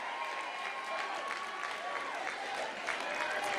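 A church crowd at a National Action Network gathering claps and cheers in a steady, continuous wash of applause, moderately loud and unbroken, with faint voices mixed into the noise.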